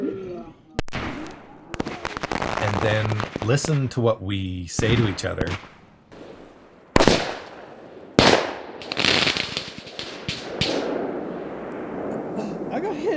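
Fireworks go off at close range and strike people: sharp, loud bangs and crackling bursts punctuate the clip, some very near, while several voices talk and shout throughout.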